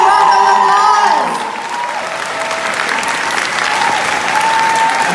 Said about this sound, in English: Guys, a big round of applause.